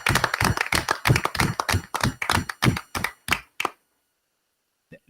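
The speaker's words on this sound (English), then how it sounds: "Let's give those three amazing fifth grade students a call in another round of" Brief round of applause at a school committee meeting for three fifth grade students: a few people clapping in a loose, uneven rhythm for about three and a half seconds, then stopping abruptly into silence.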